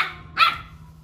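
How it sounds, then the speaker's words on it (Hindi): A single sharp dog bark, close and loud, followed by quiet. "भौंक क्यों रहा है"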